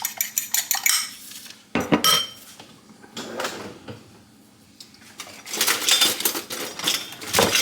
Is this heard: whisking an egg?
yes